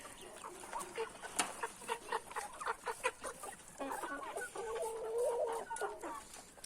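Several chickens cluck nearby on a family farm in short, irregular bursts, with one bird letting out a longer drawn-out call toward the end.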